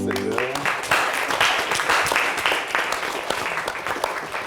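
A church congregation at a Christmas Day Mass breaks into warm, dense applause that fills the room, sustained and fairly loud after a brief voice at the start, with scattered individual claps standing out.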